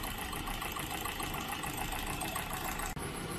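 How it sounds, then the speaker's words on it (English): A one-cylinder engine running steadily on a test rig during a mass-balancing measurement experiment, a dense, constant mechanical drone with a brief dropout near the end and no talking. "that was a little bit experiment with the one-cylinder engine underneath here"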